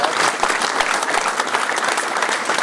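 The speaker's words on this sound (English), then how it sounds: "Could we just have a big round of applause for the talent" A live audience gives a big round of applause for the performers, dense, steady clapping filling the room at close range from start to finish with no pause.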